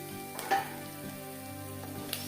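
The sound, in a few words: rice frying in a pan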